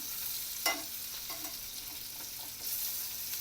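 Coriander vadi pieces pan-frying in hot oil and being flipped to the other side, a steady soft sizzle with a few sharper spatula clicks near the start, no talk.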